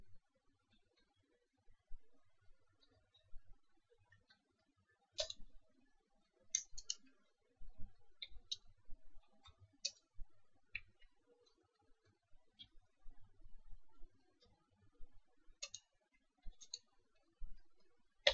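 A command is typed on a computer keyboard in an Ubuntu terminal while setting IPTables rules. The keystrokes come as faint, scattered, crisp clicks, single and in small clusters, over a quiet background.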